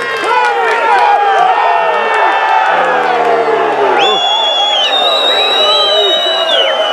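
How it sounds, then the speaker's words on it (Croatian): A loud crowd at a bullfight cheers and whoops with excited shouting voices overlapping throughout. Sustained, rowdy and close, with little distinct clapping. "Bože mi još malo aplauza za ovu borbu, gospodo?"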